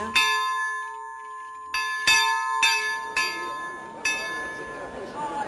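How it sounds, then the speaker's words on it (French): A bell above the kitchens of a château, rung by pulling a rope, strikes about six times in irregular succession, each stroke ringing out loud and decaying under the next, with a soft rustle beneath. "tirer sur cette corde qui fait sonner la cloche qui se trouve juste au-dessus des cuisines"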